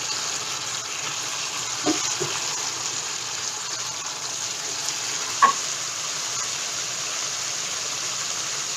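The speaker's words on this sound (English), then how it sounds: "Didn't put in much oil, so I'm going to just pan fry it" Mashed potato cakes pan fry in a little oil with a steady, close hiss and sizzle, broken by a couple of faint clinks.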